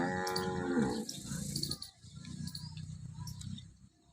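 A dairy cow moos loudly for about a second at a farm in Banaskantha, Gujarat, followed by low rumbling barn noise and faint distant sounds.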